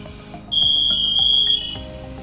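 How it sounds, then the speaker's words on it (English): A firefighter's motionless-alert alarm, sounded at a fire department during a family demonstration, lets out a loud, piercing steady electronic tone for about a second amid background noise, with no talking. "that alarm goes off and lets us know that he's hurt or something's going on where he's not moving anymore"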